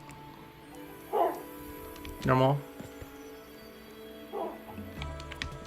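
A Minecraft dog gives a few short barks and whimpers, spaced apart, with a clear yip near the middle, while a person talks quietly in between.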